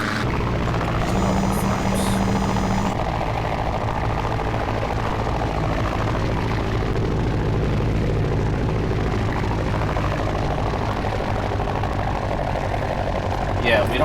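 An aircraft engine in a video game air show drones steadily and loudly for the whole stretch, like a helicopter or propeller plane flying close by, with no break in the sound.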